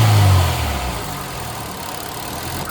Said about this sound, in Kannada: ಸೊ ರವಿಂಗ್ ಮಾಡ್ತಾ ಇದ್ದಾರೆ, ನಿಮ್ಗೆ ನೋಡ್ತಿರ್ಬೋದು ತುಂಬಾ ಕಡಿಮೆ ನಾಯ್ಸ್ ಇದೆ.